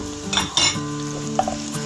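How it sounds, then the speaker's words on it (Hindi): Onions fry in a pan with a steady, close sizzle while spices are stirred in, a spoon scraping and clinking against the pan in brief strokes. "प्याज हो गई है, बस इसमें अब हम सारे मसाले डाल देंगे।"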